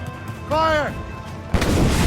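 Ship cannons fire during a naval battle in Assassin's Creed Rogue. A shouted command comes first, then a sudden heavy boom erupts into a dense, rumbling roar of blasts amid loud battle noise.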